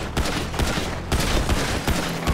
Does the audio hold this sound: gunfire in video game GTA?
yes